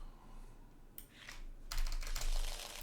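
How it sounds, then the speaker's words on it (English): Cards for a board game's district deck are shuffled by hand, with a quick riffle burst followed by a longer, louder rustling shuffle at close range, with no talking. "We need to shuffle the district"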